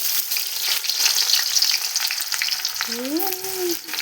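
Onions fry in hot oil with a steady, close crackling sizzle that carries on throughout, while a brief rising tonal squeak sounds near the end.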